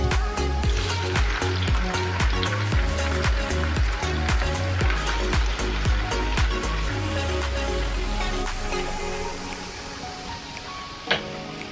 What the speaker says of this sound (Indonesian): Nah ini aku nak goreng tepung di kudai